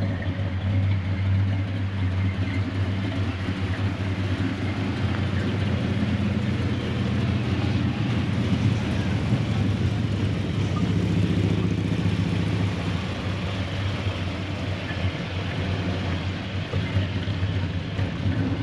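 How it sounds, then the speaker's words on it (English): A 1964 Ford Galaxie 500XL with Flowmaster mufflers and a cam idles in a low, steady rumble, a continuous engine drone that stays even throughout with no talk. "A little rumble from the cam."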